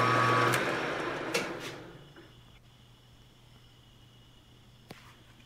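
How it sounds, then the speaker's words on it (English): A Grizzly G4003 12 x 36 gear head lathe runs with its carriage and lead screw turning: loud broadband machine noise for the first two seconds, fading to a steady low hum with a single faint click near the end. "So now you can see the carriage is turning again, but this time you'll be doing some single point threading with it."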